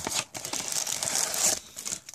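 Plastic wrap crinkling and rustling close by while a new Starbucks 2014 coin bank is unboxed, a steady dense crackle lasting a couple of seconds with small bursts before and after.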